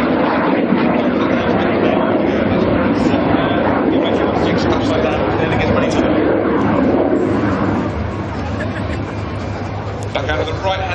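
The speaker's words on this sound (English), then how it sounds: "Reds 6 and 7 fly upside down in close formation at 300 feet above the airfield" Red Arrows jets fly an aerobatic display at the Biggin Hill 2009 airshow, a loud continuous engine roar filling the whole stretch, easing slightly near the end, with a voice talking over it.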